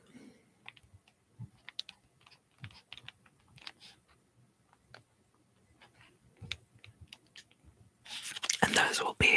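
Soft, close typing on a computer keyboard in a quiet ASMR setting, with irregular light clicks and whispering throughout, then a louder rustling burst at the very end.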